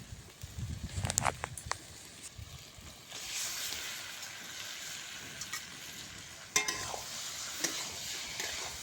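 Spice paste and marinated chicken are stir-fried for chicken kosha, with a close hissing sizzle that swells loudly as ingredients go in, plus scattered stirring clatters.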